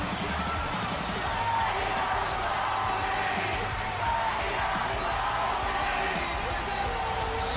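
Arena crowd in the WWE 2K25 video game, set in Okinawa, singing along to a wrestler's entrance theme, a steady distant roar of many voices with faint yells running under a commentator's talk throughout.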